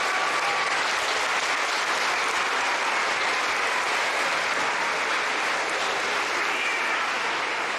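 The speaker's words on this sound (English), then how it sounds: "I would like to have everybody give the fifth graders one more round of applause for their great job." Sustained applause from an elementary school audience at a Veteran's Day program, honoring fifth graders who sang; dense, steady clapping fills the whole stretch at even loudness with faint crowd murmur beneath.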